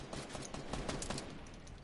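Gunfire in a PS4 shooter video game, a rapid burst of repeated shots at a low, somewhat distant level, with no talking.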